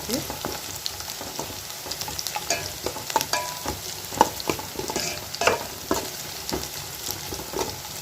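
Onion, garlic and chilli sauté in a pan for a cowpea and okra tamarind curry, a close, steady sizzle with frequent scraping stirs and spoon clicks throughout.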